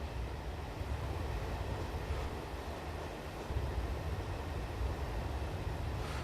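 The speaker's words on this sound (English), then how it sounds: "Train on a bridge with a nice river behind it." Class 142 diesel railbus crossing a bridge over a river in a train simulator game, giving a steady, moderately loud low rumble and rolling drone that holds evenly throughout with no talk.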